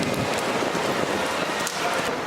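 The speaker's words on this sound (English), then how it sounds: "We've arrived this morning and it has rained throughout the day." Steady rain pattering on surfaces in a home city on a torrential, cool day, a dense loud hiss of drops close around with no voices.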